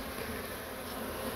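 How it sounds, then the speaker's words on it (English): Dense, steady buzzing of many honey bees clustering on a wall during a beehive relocation, close by, a continuous swarm hum without pauses or voices. "The bees are all starting to cluster up on the wall"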